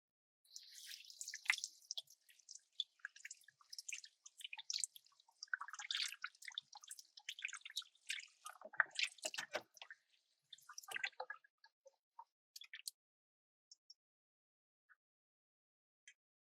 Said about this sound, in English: Now I'm going to wash my hands off.